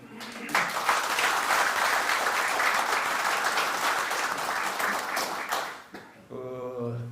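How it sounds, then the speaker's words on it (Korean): Audience at a defense-industry society breakfast forum applauds steadily for several seconds, a dense sustained clatter of many hands that fades out before a voice resumes speaking. "우리 이 대표님께 큰 박수 부탁드립니다."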